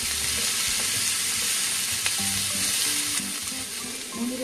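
Food sizzles loudly as it is stir-fried without oil in a pan while preparing japchae, a continuous dense crackling hiss with occasional scrapes and clinks of stirring.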